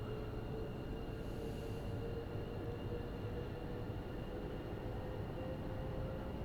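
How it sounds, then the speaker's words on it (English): A London Underground tube train running in Train Sim World 5 on the West Coast Main Line South, a steady loud low rumble and roar that carries on unbroken with a faint whine above it. "So we're being chased by a tube train as well."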